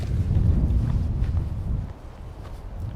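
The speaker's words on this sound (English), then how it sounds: "it is windy" Strong gusty wind buffets the microphone on a winter mountain hike, a dense low roar that eases off partway through, with faint footstep-like scuffs underneath.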